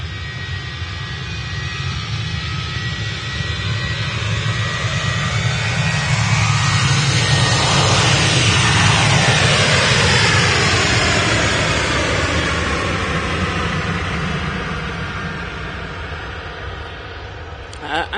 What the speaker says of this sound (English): First departure off runway 2 this morning.